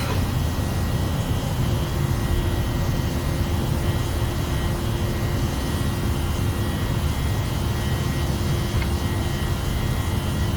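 Toliss A321 airliner engines in X-Plane 11 during takeoff and climb out of Istanbul, a steady loud broadband jet roar with a low rumble and faint tonal whine, no voices.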